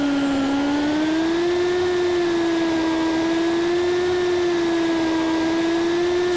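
A top fuel dragster engine in the Roblox game Car Dealership Tycoon gives a steady loud whine with a slight rise in pitch, close and continuous, much like a vacuum cleaner, with no talking.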